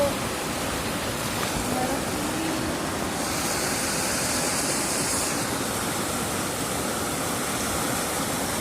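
Loud, steady rush of fast-flowing water from a waterfall close by, continuous throughout with a brief brighter hiss midway.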